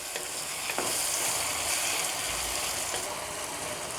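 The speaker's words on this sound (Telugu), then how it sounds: "కలుపుకుందాం ఒకసారి చికెన్ యాడ్ చేసి" Chicken fries in a pan for a gongura (sorrel leaf) curry, making a loud, continuous sizzle with scraping and clattering from a spoon stirring it. The sound is close and steady, with no speech.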